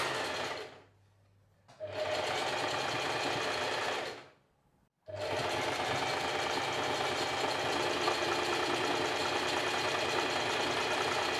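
Sewing machine running a straight stitch at stitch length 3 with backstitching, three bursts of steady, fast whirring and needle clatter separated by brief pauses, close and loud, no talking.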